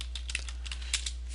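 A computer keyboard being typed on to enter a command, a quick run of light, close clicks and taps of varying strength over a steady low hum.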